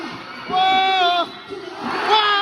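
A crowd packed into a barangay gym in Barangay 3 de Mayo, Davao del Sur, cheers and whoops loudly in long sustained bursts, dipping briefly before surging again.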